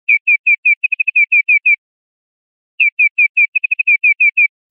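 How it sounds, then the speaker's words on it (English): Synthesized bird chirps from a Propellerhead Thor synthesizer patch: two clear phrases of short, evenly spaced tweets, each with a quick burst of faster chirps in the middle, separated by a pause, bright and close. "Now it's starting to sound much more like a bird,"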